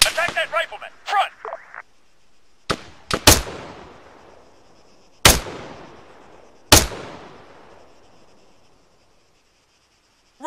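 Rifle gunfire in the video game Arma 3: four sharp, loud single shots spaced a second or two apart, each trailing off in a long echoing decay, after brief clicks and short bursts of game noise at the start.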